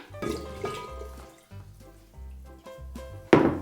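Water poured into a container during a home experiment, heard as intermittent hollow splashing and sloshing pours with short pauses between them, ending in a louder sudden gush.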